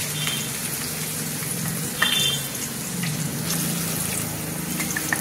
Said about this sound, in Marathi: तर आता हे वाटण तेलात घालून मी छान असं परतून घेते त्याला.